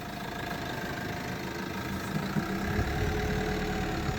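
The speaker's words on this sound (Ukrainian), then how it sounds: "Дізельок." A diesel engine idles steadily nearby, a constant low rumble with a slight knock and vibration that grows a little rougher toward the end, with no voices over it.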